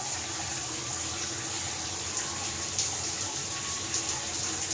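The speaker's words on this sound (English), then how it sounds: "This is an 18-inch rainfall shower head." Steady water pours from an 18-inch Japanese rainfall shower head, a dense, even hiss of falling spray that holds at constant loudness from start to finish with no voices.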